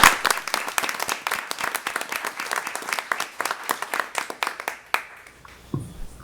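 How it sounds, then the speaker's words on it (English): A modest crowd at a transit board meeting claps for several seconds, the individual claps distinct and fairly close, thinning out and stopping near the end. "If we'll please give a round of applause for those"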